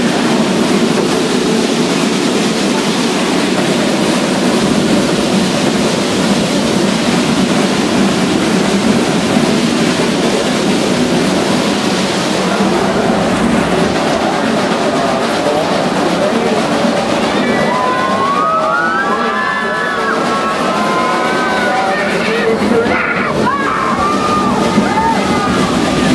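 Frisco Silver Dollar Line tourist train ride, a steady loud rumble of rolling rail cars with rattling and sloshing noise throughout, joined near the end by faint squeals or chirps.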